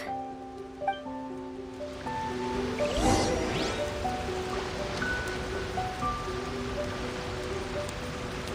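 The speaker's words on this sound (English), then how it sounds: "I'm used to the rain, but you should probably use an umbrella." Rain falls in a Genshin Impact quest scene, a steady soft hiss of drops over layered game music tones and a brief swooshing effect, continuous throughout.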